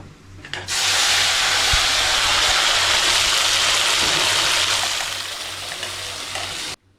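Ground wet masala hitting hot oil with cumin in a pan while cooking creek crabs, a loud sudden sizzle that swells and holds steady as a dense hiss before cutting off.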